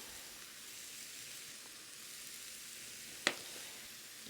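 Mushrooms and shallots with salt and pepper sauté in a pan, a soft continuous sizzle, fairly quiet and close, with a single sharp clink of a utensil near the end.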